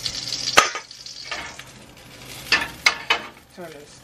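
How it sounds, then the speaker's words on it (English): Fish and shrimp sautéing in butter in a pan, with a soft sizzle broken by several sharp scrapes and clinks of a utensil against the pan, close by. "I'm just gonna saute it in the pan with the butter and the shrimp too"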